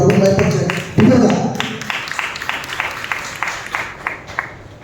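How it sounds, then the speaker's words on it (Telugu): A church congregation clapping loudly during a joint evening worship service: an opening swell of voice and sound gives way to steady, rhythmic hand claps repeating several times per second. "బిగ్గరగా చప్పట్లు కొట్టి"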